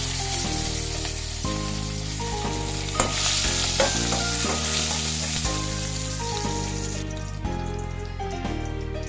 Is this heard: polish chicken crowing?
no